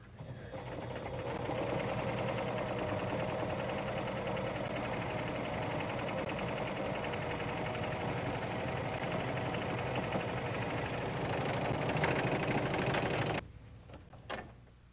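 A Husqvarna Viking Huskylock 936 serger runs steadily on medium knit fabric, a fast, even mechanical whir that holds loud and close for about thirteen seconds, then stops abruptly, followed by a couple of faint clicks.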